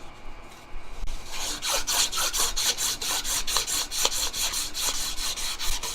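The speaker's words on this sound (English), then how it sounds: "put the piece in your vise and buff those out by hand" Hand buffing of a metal spoon piece clamped in a vise, heard as a steady run of close, rhythmic rasping strokes about every third of a second, with no talking.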